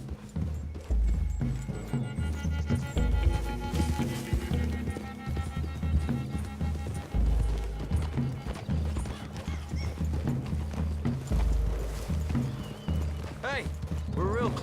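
Horse hooves clip-clop steadily through woodland in Red Dead Redemption 2, several mounts moving at a walk with an occasional whinny, continuous and fairly close beneath spoken dialogue and background music.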